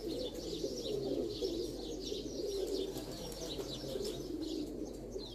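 Pigeons on a rooftop during a one-day pigeon tournament, giving soft, low, repeated cooing in a steady murmur, with light chirps and faint ambient noise, fairly distant and quiet.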